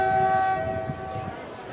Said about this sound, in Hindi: और ये देखिए पन्नगर रेलवे स्टेशन से ये ट्रेन छूट चुकी है, चल चुकी है।